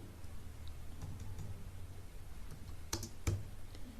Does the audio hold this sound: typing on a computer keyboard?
yes